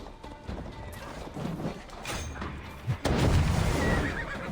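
Horse in the video game Assassin's Creed Valhalla, during the Siege of Paris: a whinny and hoof clatter amid noisy battle sounds, with a heavy crash near the end.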